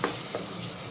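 A spoon stirs tomatoes frying in a pan for a Palnadu-style chicken curry, with a short, soft sizzle and a few brief scraping stirs, heard close and without talk.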